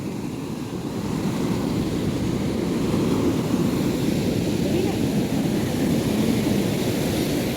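Ocean waves wash onto an empty beach, a continuous loud surf roar mixed with wind buffeting close to the microphone.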